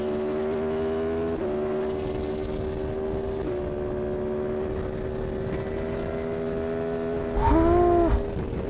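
An Aprilia motorcycle races along the Karak Highway, its engine holding a sustained high droning note with a brief shift partway through, then a louder passing surge and rising whine near the end.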